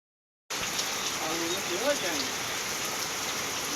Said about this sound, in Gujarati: વરસાદ હજી એમને આમ છે.